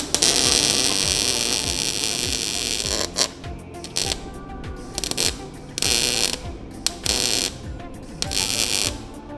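A MIG welder burns through metal with a continuous loud buzzing crackle that breaks into several stop-start bursts, close up and without talking.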